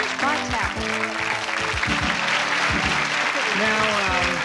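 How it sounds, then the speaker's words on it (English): Studio audience applause on the Crosswits game show, a steady, dense wash of many hands clapping throughout, with tonal voices or music riding over it. "Listen to the applause"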